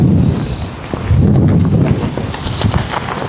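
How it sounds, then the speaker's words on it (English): Strong wind blowing outdoors, buffeting the microphone in gusty rumbling bursts that rise and fall, with no voices. "Yo, this wind is actually crazy."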